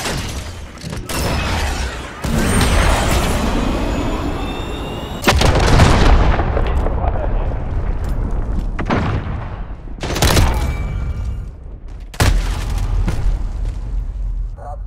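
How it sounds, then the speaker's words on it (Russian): Heavy booming explosions from a cruise missile strike in Call of Duty: Modern Warfare multiplayer, several loud blasts with rumbling tails mixed with gunfire and battle noise throughout. "Крылатая ракета запускает."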